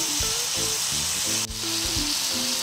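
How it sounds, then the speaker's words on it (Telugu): Bottle gourd pieces fry in hot oil, giving a continuous, close hiss and crackle of sizzling that dips for an instant partway through and then carries on evenly. "అదే నూనెలో ఇప్పుడు సొరకాయ ముక్కలు వేసుకోవాలి."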